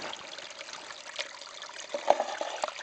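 Spring water from a hose sprays and trickles onto a sluice, a soft, close splashing with small irregular spatters and a few brighter drips.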